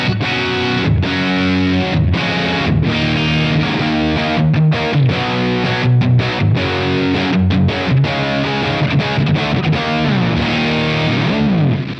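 Distorted electric guitar played through a Fender Mustang Micro Plus headphone amp on its Spoonful preset, loud and continuous with chorded riffs and short breaks, no voices.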